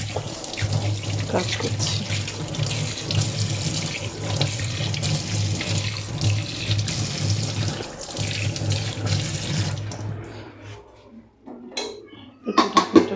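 Water runs from a kitchen tap in a steady, close splashing rush while hands are washed with soap, with occasional clinks of dishes, before the flow stops near the end and a voice speaks briefly.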